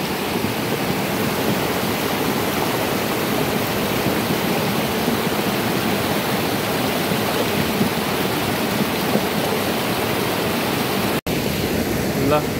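Broad, steady rushing of a river at an unbridged stream crossing in Dharan, loud and continuous throughout, with only a momentary break near the end.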